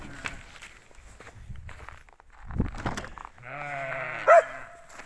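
Sheep bleating at feeding time on a winter farm, a few loud close bleats after footsteps and rustling, with goat-like wavering cries near the end.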